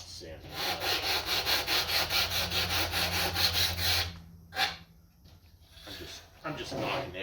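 Rapid back-and-forth rasping as sharp edges are knocked off a composite layup part, about four seconds of even rhythmic scraping close up, followed by a few quieter scuffs and someone talking.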